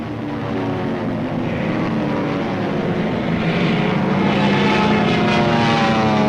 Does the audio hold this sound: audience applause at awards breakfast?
no